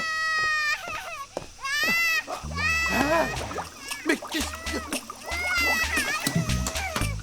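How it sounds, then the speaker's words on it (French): Sauce splashing and splattering in a cartoon kitchen, a few wet bursts heard close up between excited character voices and a short cry. "Ça a un peu éclaboussé"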